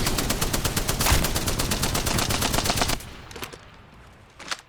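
A Spitfire light machine gun in Apex Legends fires a rapid, loud, continuous burst for about three seconds, then a few faint scattered shots follow.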